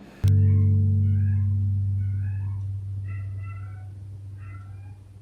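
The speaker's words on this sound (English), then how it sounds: "That's my cat." A cat meows several times in short, close calls over a steady low hum, with brief pauses between cries.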